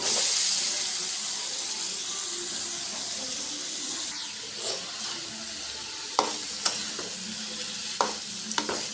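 Spices cooked with prawns and vegetable stalks in a pan, with a steady hissing sizzle throughout and a run of sharp spatula scrapes and clinks in the latter half.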